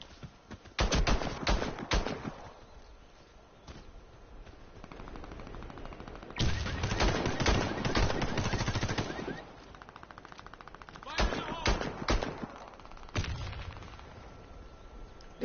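Bursts of automatic gunfire from a video game crackle in long rapid strings separated by short pauses, loud and close, with a few single shots between volleys and no voices.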